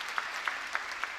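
A church congregation at an autumn early-morning revival service applauds together in a steady wash of clapping, with a few louder claps in an even rhythm.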